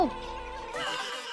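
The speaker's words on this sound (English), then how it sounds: "Stupid bees." Bees buzz in the video game Banjo-Kazooie, a steady, wavering drone that stays prominent throughout.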